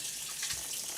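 Cold tap water runs steadily over freshly shucked oysters in a cold water bath, a continuous close hiss of flowing water with no voices for the whole second.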